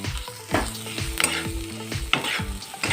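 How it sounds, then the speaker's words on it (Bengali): Spices frying in a pan for onion kachori filling are stirred with a utensil, giving repeated scraping strokes roughly every half second over a steady close sizzle, with no talking. "একটু নাড়বো এটাকে।"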